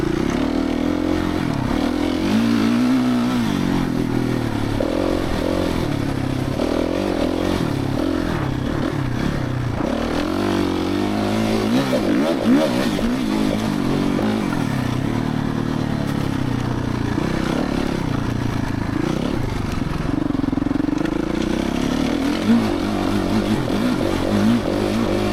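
A new Suzuki RMZ450 dirt bike runs on a rough track, its engine buzzing loudly and continuously with rising and falling revs as it climbs and eases off, close by throughout.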